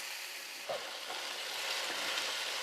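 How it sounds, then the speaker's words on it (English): Ground meat for taco casserole sizzles and crackles in a hot pan, a soft steady hiss with a few faint pops and stirring knocks, no voices. "You know when that pan's sizzling, something good is going on."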